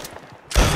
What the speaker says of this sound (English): Firework testing up on top of the photo studio.